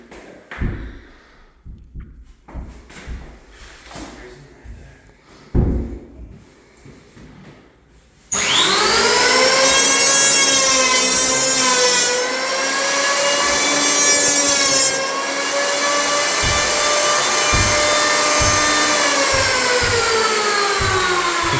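A hand plane shaving the edge of a wooden door: a few sparse knocks and taps, then a long continuous loud rasping scrape with whining tonal overtones, close to the microphone.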